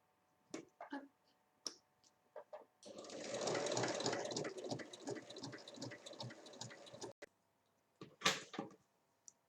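A domestic sewing machine stitches along traced lines on fabric for a square pouch, running in a loud, rapid burst of several seconds, framed by scattered clicks and handling knocks before and after.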